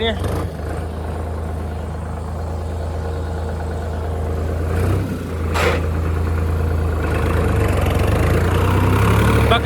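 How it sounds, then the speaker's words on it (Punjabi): A tractor engine idles steadily outdoors at a house under construction, with a deep, continuous rumble and a brief rise midway, close and loud throughout. "ਮੈਂ ਟਰੈਕਟਰ ਬਾਹਰ ਲਾਇਆ ਆਰਾਮ ਨਾਲ ਟਰੈਕਟਰ ਲਿਆਈਏ"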